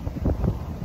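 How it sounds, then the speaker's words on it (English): Brief bursts of low, rumbling wind buffeting a microphone, muffled thumps and gusts rising and falling over less than a second. "I apologize if there's going to be any wind noise, because it is windy where I am right now"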